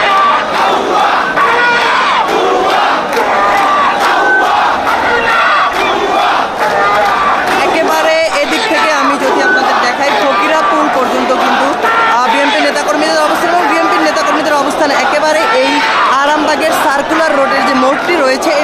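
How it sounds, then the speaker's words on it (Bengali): Political activists at a rally in Motijheel chant slogans in loud, continuous unison, the large crowd's rhythmic shouting filling the whole stretch without a break. "সেখানে জড়ো হচ্ছেন এবং নেতাকর্মীরা স্লোগান দিচ্ছেন।"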